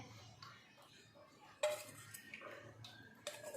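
Potato slices being mixed with salt, chili flakes and spices in a bowl, with soft stirring and a few sharper spoon clinks against the dish, quiet and close.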